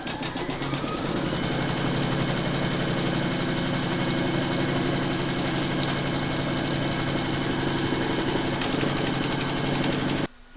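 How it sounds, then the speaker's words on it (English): An embroidery machine stitches through a hoop of fabric taped over batting for a bag, giving a steady, close, rapid mechanical whirring and clatter that runs evenly for about ten seconds before stopping abruptly. "Pop your hoop into your machine and stitch round number 2 to secure it."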